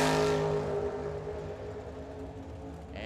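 A Camaro and a 1993 Dodge drag race at Firebird Motorsports Park. A loud, sustained engine roar fades slowly as the cars pull away, and a short burst of noise comes at the end.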